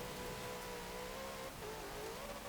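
A 2015 Lexus RC F V8 engine in Forza Horizon 4, on an offroad build, revs loudly and continuously, its steady tone shifting and climbing in pitch.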